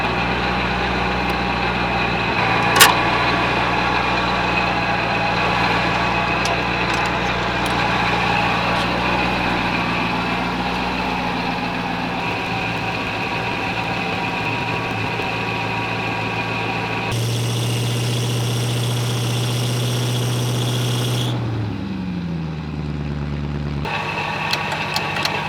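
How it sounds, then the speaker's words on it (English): A V8 Land Rover Discovery 1 idles with a steady, continuous rumble, a thin high belt squeal riding over it; the engine note shifts and drops briefly near the end, with one sharp click early on. "Oh, listen to that belt squeal."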